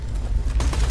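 Rapid submachine gun fire in the video game Borderlands 2, a dense, loud one-second burst of overlapping shots with a booming low end and no voices.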